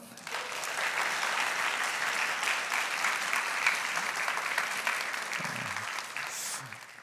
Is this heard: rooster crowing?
no